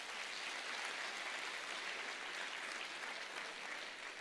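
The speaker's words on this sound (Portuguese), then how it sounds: "uma salva de palmas para as mulheres" Audience applause for the women at a political congress, a dense, steady clapping that stays evenly loud throughout with no voices heard.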